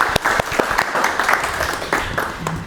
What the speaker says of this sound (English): give a round of applause for Tania.